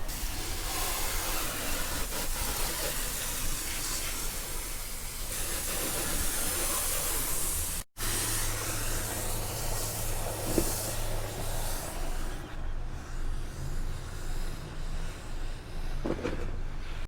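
A $15 Harbor Freight purple HVLP spray gun hisses loudly and continuously while spraying Rust-Oleum paint on a car bumper, with a brief cut near the middle, then keeps spraying with a steady airy rush.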